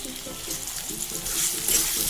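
Onions fry with turmeric in a pan, giving a steady close sizzling hiss that swells slightly toward the end, with no talk.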